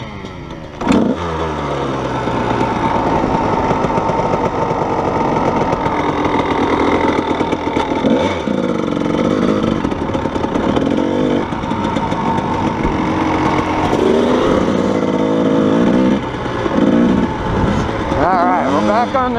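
A Kawasaki KDX220 dirt bike engine idles and revs steadily near the microphone on a desert trail, a continuous loud mechanical drone with brief throttle surges, while someone talks over it.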